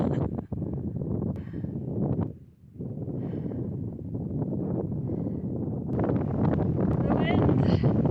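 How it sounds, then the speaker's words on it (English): Gusting wind buffets through a steep desert slot canyon in the Coyote Mountains, a steady broadband rush with a brief lull midway before it swells louder again near the end. "wind."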